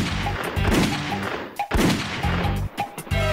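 Gunshots crack out in rapid bursts, loud and close, with sharp repeated reports and a brief gap between volleys.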